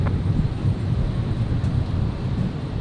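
A Cessna Citation jet at Brisbane airport gives off a steady low engine rumble that holds at an even, fairly loud level throughout, with some wind buffeting and no speech.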